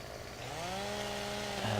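A McCulloch CS410 chainsaw in Farming Simulator 17 cutting into a tree: a steady, rising motor whine that climbs in pitch and holds, heard alone and fairly close.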